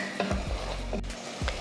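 Mutton being sautéed with freshly ground masala in a pan for a Tamil mutton kulambu: close, loud sizzling frying with several scraping stirs of the spoon across the pan.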